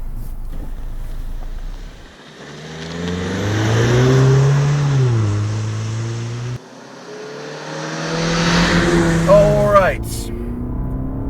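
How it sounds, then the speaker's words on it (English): A 2020 Cadillac CT4-V accelerates up a hill, its engine rising in pitch through two strong pulls with a gear change between them, loud and close, while someone talks over it. "We put in drive, and we go up the hill."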